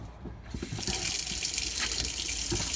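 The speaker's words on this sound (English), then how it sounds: "we come to the tap and literally just turn it on" Water runs from the kitchen tap of a Bailey Unicorn 4 caravan fed by the external water supply. A soft start quickly becomes a steady, close rushing stream.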